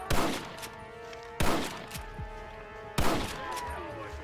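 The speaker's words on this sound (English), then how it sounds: "Marston, use that Gatling gun." Booming bursts of Gatling gun fire in Red Dead Redemption, three heavy volleys spaced about a second and a half apart, each trailing off into a ringing tail over a faint tonal background.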